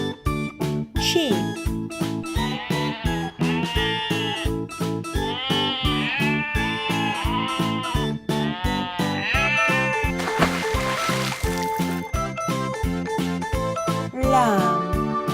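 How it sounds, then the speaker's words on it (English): Sheep bleat loudly and close up in long wavering calls, several overlapping in a continuous chorus, with a faint tinkling like a bell beneath and no voices. "Sheep."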